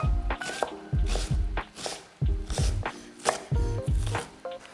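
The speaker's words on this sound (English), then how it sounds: "Now I'm going to just slice 1/2 centimeter strips." A knife slices onion into half-centimetre strips on a cutting board, giving a quick run of about a dozen close, crisp chops with soft crunchy squishes between strokes, no voice over it.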